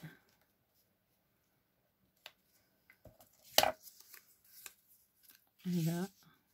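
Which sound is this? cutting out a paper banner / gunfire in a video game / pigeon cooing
cutting out a paper banner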